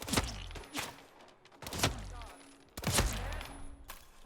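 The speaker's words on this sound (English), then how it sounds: "We got gunshots." Three heavy bursts of gunfire from a Hitman video game, each a loud crack with a rumbling tail, spaced about a second apart.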